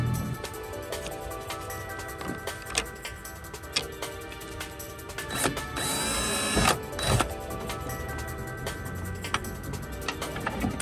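A power drill whirs steadily for several seconds, drilling into a plastic car reverse light cap, with a louder burst of drilling midway and faint tapping clicks against a constant mechanical hum.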